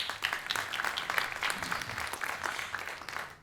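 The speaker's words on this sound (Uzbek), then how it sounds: "Va keyingi ishtirokchilarimiz va nihoyat Mitvayn jamoasi olqishlab qo'yamiz." An audience at a roast show applauds the Mittivine team, giving steady, dense clapping at moderate volume that swells slightly and then tapers off.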